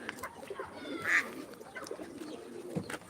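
A single soft pigeon coo rises briefly midway through, over a low murmur of outdoor background noise.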